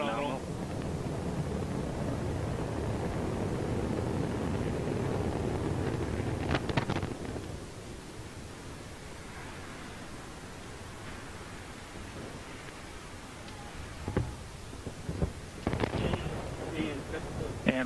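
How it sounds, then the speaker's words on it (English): An Antares rocket lifting off on the Orbital 3 Cygnus cargo mission produces a steady, broad rushing roar for several seconds, then a lower, thinner rumble broken by a few sharp cracks and pops, heard from a distance with faint voices beneath. "we have liftoff of Antares with the orbital 3 missions that brings Cygnus on its third CRS mission to the ISS."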